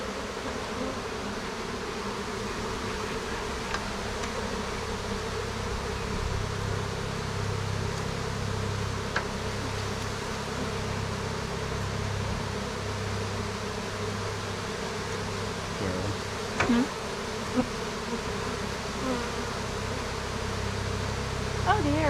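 A swarm of honey bees drones steadily and loudly at close range for the whole stretch, a dense continuous buzz with a few brief knocks and clicks on top.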